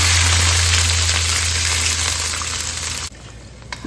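Shrimp and egg white hitting hot oil with golden garlic in a wok, a loud steady sizzle and hiss that runs continuously, then drops off sharply near the end.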